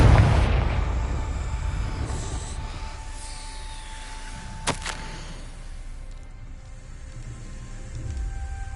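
A Confringo fire spell from Hogwarts Legacy bursts with a heavy low boom at the start, then fades into a rumbling tail, with a sharp crack midway over quiet game ambience.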